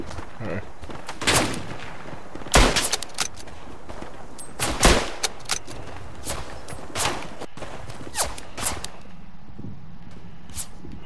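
Sporadic rifle and machine-gun fire rings out in the WWI shooter Tannenberg on PS4: sharp cracks at irregular intervals, some loud and close, others softer and distant, over a faint battlefield ambience.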